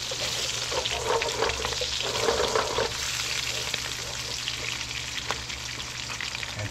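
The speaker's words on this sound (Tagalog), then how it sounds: "Ayan, po-fried natin ng konti." Sweet potato (kamote) frying in a pan for chicken adobo, a steady broadband sizzle with a low hum underneath, slightly busier in the first half and continuing unbroken to the end.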